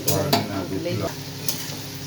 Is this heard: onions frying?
yes